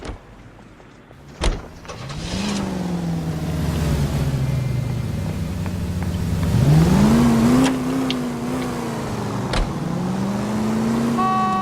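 A 1940s-style car in LA Noire driving with engine hum rising and falling through gear changes, punctuated by a couple of sharp horn-like toots and clicks, steady and close.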